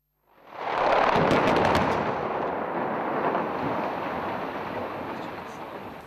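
Explosions of houses in Shakhtinsk, Kazakhstan, in the early 2000s: a loud blast swells within the first second into a long, dense rumble of debris and roar that stays steady and slowly fades over several seconds.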